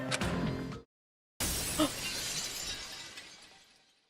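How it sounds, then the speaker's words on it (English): A chandelier crashing down and shattering in Danganronpa Lapse, a loud burst of breaking glass after a brief silence, with tinkling shards that ring on and slowly fade away. "the Forte's chandelier came crashing down on Missy and Forte"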